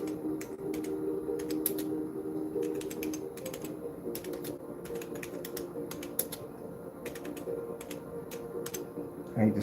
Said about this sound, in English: I hate this keyboard.